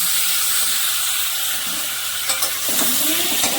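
Washed, still-wet taro leaves drop into hot tempering oil, setting off a loud, steady sizzle with a steamy hiss that rises into sharper crackles and stirring noises toward the end.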